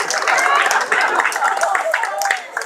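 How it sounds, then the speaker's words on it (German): Street-festival crowd at an outdoor juggling and acrobatics show in an old-town market square, clapping loudly and steadily while a voice keeps talking over the applause. "Was für ein riesiger Applaus"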